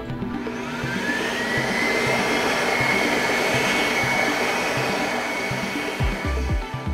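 An Excel XLERATOR hand dryer with its motor turned down to a reduced speed, running as a steady, close whir of rushing air that holds for several seconds before cutting off with a few knocks.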